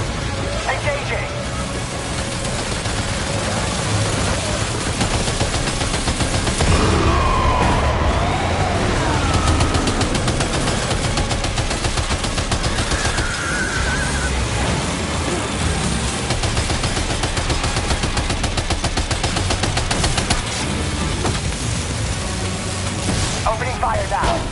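Gunfire in the video game Death Stranding 2 crackles as dense, continuous bursts under a busy mix of game noise, with voices talking over the shooting throughout.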